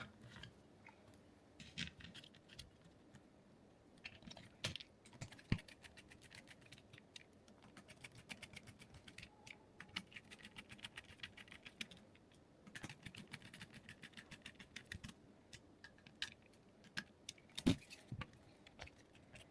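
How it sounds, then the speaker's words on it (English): Small screws are driven into the plastic casing of a Bosch AmpShare 18V battery, sixteen in all. The result is faint, quiet clicks and ticks, irregular and scattered, with occasional sharper snaps over low background hiss. "I will fix the screws again, 8 pieces on each side."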